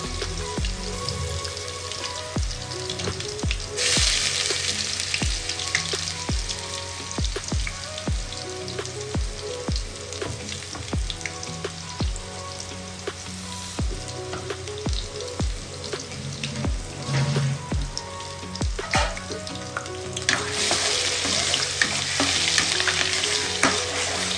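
Onion, garlic and cumin paste frying in oil after mustard seeds, a loud continuous sizzle with regular spoon taps and stirring clicks against the pan throughout, no voices.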